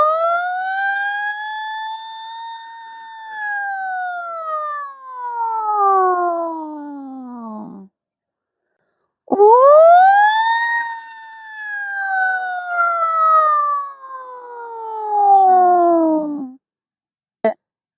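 A man imitates a ship's siren with his mouth in two long, loud, close blasts. Each starts low, swells and then slides slowly downward, with a short gap between the blasts.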